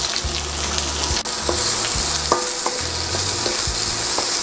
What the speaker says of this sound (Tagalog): Ngayon, isosaute naman natin ang ating chicken.